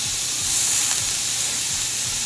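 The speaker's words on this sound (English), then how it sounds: "I'm about to put my roast on this pan and sear it really quick" Beef chuck roast sears in a hot pan with a steady close sizzle and hiss, loud and continuous over the short stretch, with no voices.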